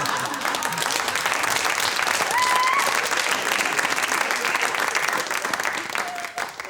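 A comedy-show audience applauds in a sustained, fairly loud wash of clapping that holds steady and dips near the end.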